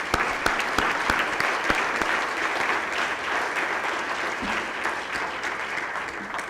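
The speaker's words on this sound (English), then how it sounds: "I want you guys to give them a round of applause" Crowd applause for entrepreneurs at the Prosper Waco Summit 2017, dense continuous clapping from a large audience with a few sharp nearby claps standing out, holding steady throughout without speech.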